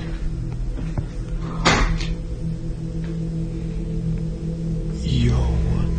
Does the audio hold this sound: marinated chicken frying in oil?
no